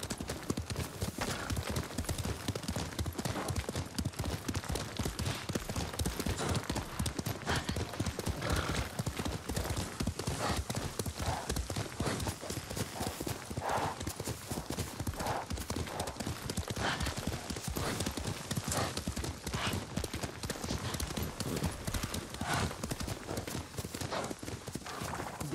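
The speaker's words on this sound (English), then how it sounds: "What's my horse Leave doing" Rapid, steady galloping horse hooves in the Ghost of Tsushima video game, a loud continuous clip-clop with an occasional whinny and some voices over it.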